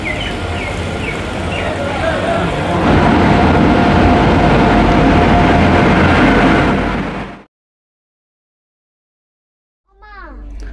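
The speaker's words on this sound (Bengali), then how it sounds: "ট্রেন আমার এসেছে" Train arriving at a station in Murshidabad, West Bengal, a loud building rumble with high squeals, voices of waiting people and children over it, stopping abruptly, then a brief return of sound near the end.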